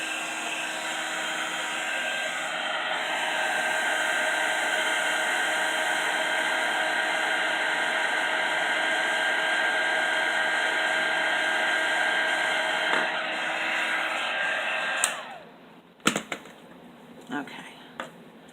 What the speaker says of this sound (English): And then I'm just going to emboss this really quick.